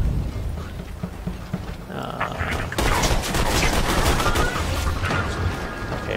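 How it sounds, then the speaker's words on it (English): Enemy gunfire in Borderlands 2 erupts as a sustained fusillade of rapid shots, growing louder and denser partway through, with mechanical clatter mixed in and no talking. "we got more people shooting on our right side"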